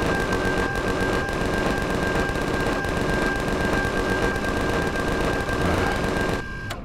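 A gun turret firing in the video game Empyrion Galactic Survival, a loud, rapid, unbroken stream of shots with a steady tonal whine behind it, stopping abruptly near the end.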